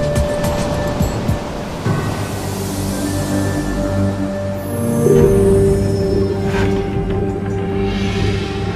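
Big ocean surf from a large swell rolls in as a continuous roar of breaking waves, loud and close, with no voices.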